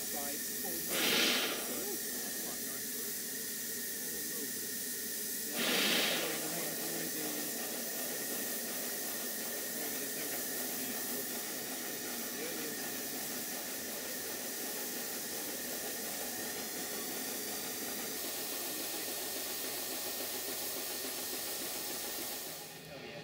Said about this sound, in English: It does take a bit of practice to successfully operate a miniature steam locomotive.